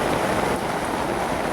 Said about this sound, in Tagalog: Grabe yung mga ulan dito.